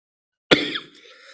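A single sharp, close cough bursts in after half a second of silence, then trails off into a brief raspy, throaty tail.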